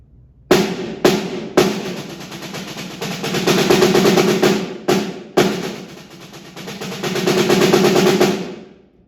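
A snare drum audition exercise for percussion plays open rolls on a thirty-second-note base without buzz, in loud sustained swells broken by sharp accented strokes and brief gaps; played alone, with no voices.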